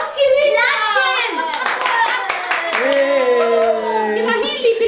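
Hands clap in a dense burst at a child's birthday party, loud and close, with children and adults talking and exclaiming over and around the applause.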